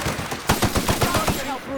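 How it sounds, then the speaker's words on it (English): Rapid bursts of gunfire in the sci-fi shooter video game The Outer Worlds, a rhythmic string of close, punchy shots over about a second, with game noise around them. "Opening fire!"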